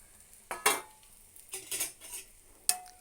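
Kheer being stirred and fried in ghee in the same pan used for cashews and raisins: a spoon scrapes and clatters against the pan in three short bouts over a faint sizzle, with no talking.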